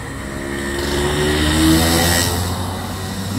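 A second-hand 2021 RS150 motorcycle engine runs close by, a steady idle hum that swells slightly into a mild rev and then settles back, with no voices.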